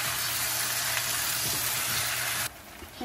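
Potatoes and champignon mushrooms frying in a pan give a dense, steady close-up sizzle that cuts off sharply partway through, leaving a quieter background.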